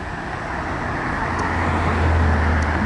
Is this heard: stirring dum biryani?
no